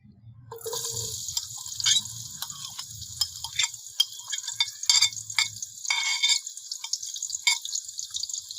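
Chopped onion goes into a cup of hot oil for halwa puri chanay. Bright, hissing sizzle picks up near the start and carries on with irregular crackling pops. It is close and fairly loud, and nobody speaks.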